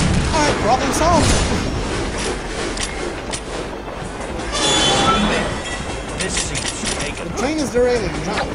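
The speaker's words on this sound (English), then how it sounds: "Train is derailing." A train derails in a Spider-Man video game, with loud grinding rail noise, squealing wheels and heavy impacts over a rumbling background, while voices talk at the start and near the end.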